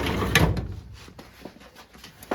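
Drawer of a tool cabinet in a home workshop sliding open, a close, loud rumbling scrape at the start that fades to faint rattles, with a brief knock at the end.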